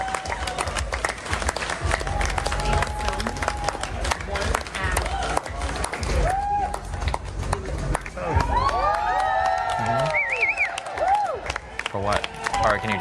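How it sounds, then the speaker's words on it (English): A crowd clapping and cheering at a Tesla Cybercab demo, steady applause with whoops and shouts, heard under a voice talking over it. "Everybody's clapping."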